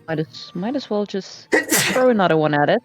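A person sneezes once, sharp and loud, in the middle of a tabletop Dungeons & Dragons game session, with people talking just before and during it.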